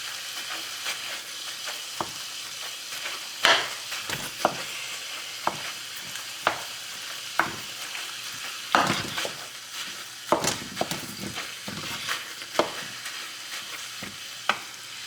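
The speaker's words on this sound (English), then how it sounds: "I've added all that into this thing and we're just frying it up right now." Chorizo and ground meat sizzle steadily in a pan, with a spoon scraping and stirring at irregular moments, close up and without voices.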